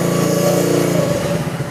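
A motorcycle with a drilled-out exhaust revs loud and close, a raspy, buzzing engine note rising and wavering briefly.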